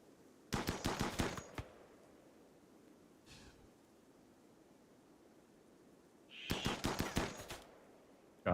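Colonists in the video game Rimworld firing on raccoons, two rapid bursts of gunfire, each lasting about a second, separated by a quiet gap with a faint rustle between them.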